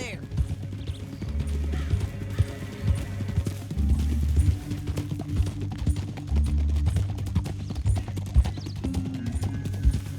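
Horse hooves clip-clop in Red Dead Redemption II, a steady rhythmic trot under a bed of game ambience while voices talk over it throughout.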